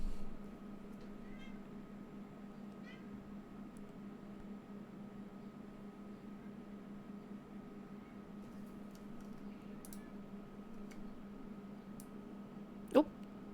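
A pet cat named Ethan meows faintly from the other side of a door, mostly lost under a steady room hum, with one brief sharper cry near the end.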